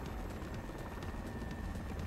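A helicopter cruises over Corsica, heard from inside the cabin as a constant low rumble with a rapid rotor chop and a faint high whine, steady throughout with no talk.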